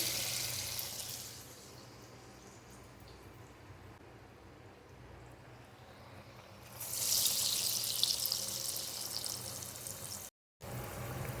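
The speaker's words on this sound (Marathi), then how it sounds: "आपलं तेल चांगलं तापलेलं आहे आता भजी आपण सोडूया" Chana dal bhaji lowered into hot oil, a steady soft bubbling hiss that swells into a louder, brighter sizzle partway through, close and continuous with no talk.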